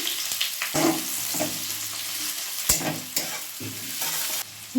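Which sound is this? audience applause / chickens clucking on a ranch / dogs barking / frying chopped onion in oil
frying chopped onion in oil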